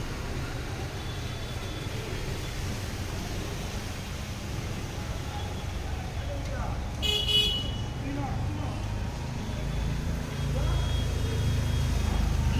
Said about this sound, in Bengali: কত সুন্দর জলের মধ্যে গাড়িগুলো আসছে